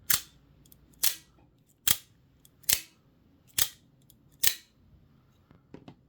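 Repeated firing of a Scarab 2 Gen 3 OTF knife: six crisp snapping clicks at a steady roughly one-second pace, each followed by a short ringing spring twang, close-up in a quiet room.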